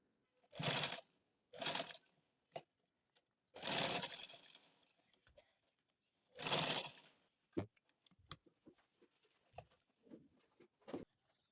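Short bursts of a sewing machine stitching shalwar fabric, three or four quick runs of whirring stitches separated by pauses, followed by light clicks and handling sounds in a quiet room.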